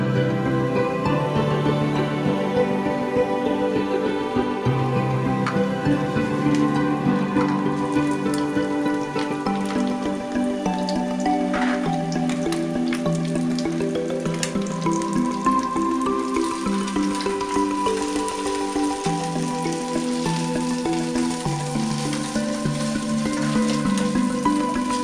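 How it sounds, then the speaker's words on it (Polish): Continuous crackling and bubbling of fish fillets frying in a little hot oil, steady and fairly close, with a faint tonal hum underneath. "Smażymy filety rybne na złoty kolor."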